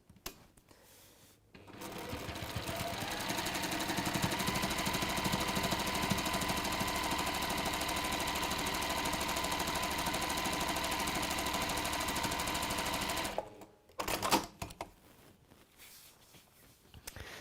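A sewing machine runs steadily for about twelve seconds, stitching a seam down both sides of textile work, with a rapid even whirr that stops abruptly and is followed by brief handling clicks.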